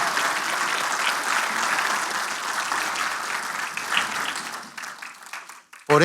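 A church congregation claps for Christ during a sermon, a dense burst of applause filling the space for several seconds before tapering off into scattered claps.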